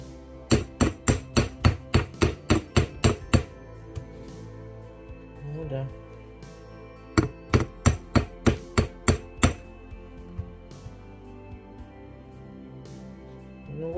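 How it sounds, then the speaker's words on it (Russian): A hammer flattens wire for handmade earrings in rapid runs of sharp metallic taps, two bursts of about a dozen blows each separated by a quiet gap, close and loud. "Сейчас я немножко отобью его"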